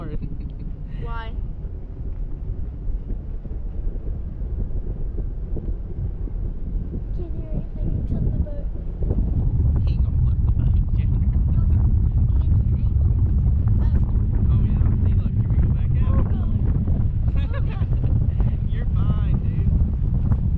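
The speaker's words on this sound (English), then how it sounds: "The wind's not even too bad in here, is it?" Wind buffeting the microphone during a boat ride, a steady low rumble that grows louder about halfway through, with brief voices talking over it.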